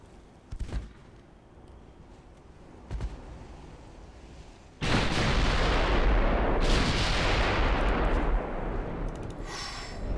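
Warship main guns fire in a naval battle in the game Ultimate Admiral Dreadnoughts. Two or three distant booms come first, then a loud, sustained roaring salvo of heavy gunfire that rumbles on for several seconds.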